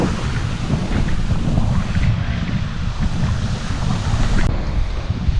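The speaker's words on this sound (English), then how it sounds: "It's a little windy." Strong wind gusts buffet the microphone on Chic's Beach along Shore Drive by the Chesapeake Bay, with surf washing underneath in a loud, steady roar and no voices.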